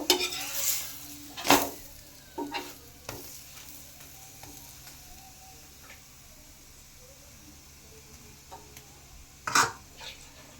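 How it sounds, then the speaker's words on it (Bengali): A paratha fries in a pan with a faint, steady sizzle, punctuated by a few clanks and scrapes of a utensil against the pan, loudest near the start and again toward the end. "এইভাবে আমি সবকটা পরাঠা ভেজে নেব"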